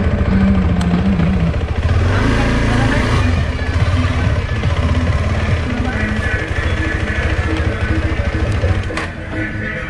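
A motorcycle engine runs steadily and close by throughout on a road leading to the Lankapara picnic spot in the Dooars, with a low rumble and little change in level, among other traffic.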